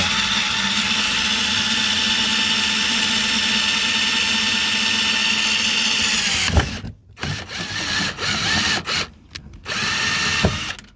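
A power drill whines loudly and steadily, then cuts out and sputters in short bursts as it stops and restarts.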